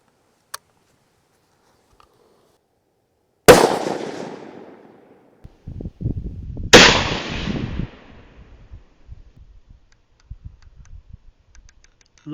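Two sharp, loud rifle shots several seconds apart during scope zeroing with a Commander NV400 scope cam, each with a decaying echo tail, followed by faint clicks and handling noises, no talking.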